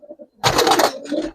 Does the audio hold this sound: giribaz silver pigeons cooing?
yes